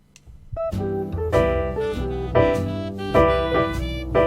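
Rich jazz piano chords struck in sequence, each voicing ringing out warmly before the next, played alone at a steady, unhurried pace.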